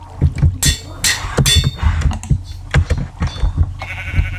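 Sheep bleating in the Minecraft video game, short bleats mixed with rapid clicking and tapping, loud and close, with no talk over them.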